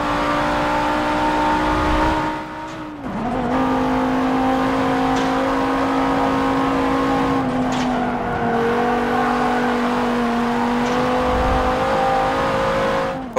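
Race car engine in Forza Motorsport 7 holds a steady, loud drone with a brief dip and pitch drop as the car brakes, then settles back to a sustained hum.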